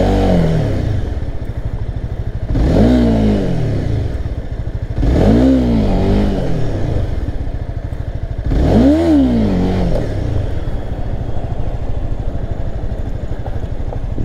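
A Honda CBR300 motorcycle engine revs hard three times over a steady loud idle, each rise and fall of pitch clear and close.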